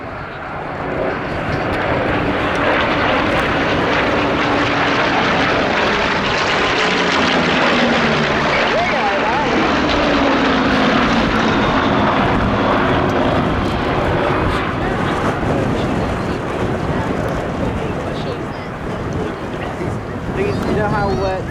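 A Hawker Hurricane WWII fighter flying past at an RAF airshow, a loud sustained piston-engine roar that swells and slowly fades, heavy with wind buffeting, with a commentator talking over it.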